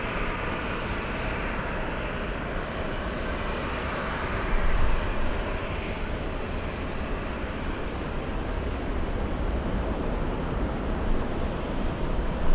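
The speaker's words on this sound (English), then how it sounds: "777. This is Saudia in the Formula E livery flying in from Jeddah." Saudia Boeing 777 airliner in from Jeddah flying in at LAX airport, a loud continuous broadband jet roar that holds steady throughout with slight swells and no talking.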